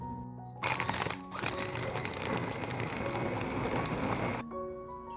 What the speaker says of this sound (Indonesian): Nah, ini siap kita giling dulu ya.